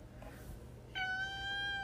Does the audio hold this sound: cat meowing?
yes